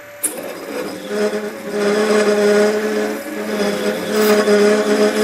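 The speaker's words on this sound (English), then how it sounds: "this is I think called a gouge" A hand gouge hogs out wood while shaping a tucking hammer, producing a close, steady rasping scrape that runs continuously after a sharp initial contact, with no speech.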